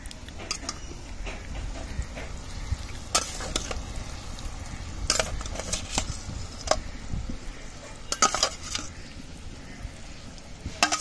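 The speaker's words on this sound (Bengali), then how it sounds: "এবার ভেজে রাখা মাছগুলো দিয়ে দেবো" Fried folui fish go into a simmering poppy-seed gravy in a pan, giving a low, steady bubbling sizzle punctuated by sharp clinks and scrapes of utensil against pan, close and fairly quiet.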